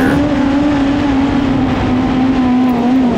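A Honda K20 engine in a Badger midget race car holds a steady high-pitched drone on throttle, loud and close with slight pitch wavering throughout, no voices.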